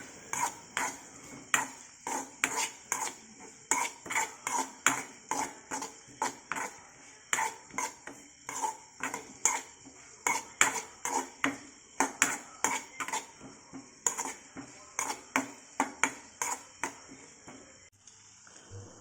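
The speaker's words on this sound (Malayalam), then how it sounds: "ഈ സവാള ഈ എണ്ണയിൽ നന്നായിട്ട് ഫ്രൈ ചെയ്ത് വരുന്നേരം നമുക്ക് ഇതൊന്ന് ഇളക്കി കൊടുക്കാം." Onions frying in oil in a pan for a quail egg fry are stirred with steady, rhythmic scrapes and clinks of a utensil against the pan over a constant soft sizzle, close and fairly quiet, with no talking.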